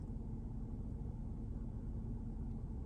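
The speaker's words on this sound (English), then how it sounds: "it's actually idling right this moment. So I'll just take a moment of silence, and you can only just hear it" A 2015 Holden Caprice-V with the 6 litre V8 idles inside its well-soundproofed cabin, a faint, steady low rumble with no talking over it.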